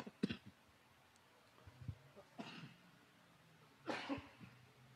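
A person's dry cough from the throat, three separate harsh bursts spaced a second or two apart in a quiet room, with no talking.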